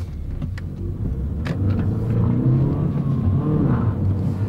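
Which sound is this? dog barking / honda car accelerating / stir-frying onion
honda car accelerating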